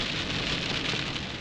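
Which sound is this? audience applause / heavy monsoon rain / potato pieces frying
heavy monsoon rain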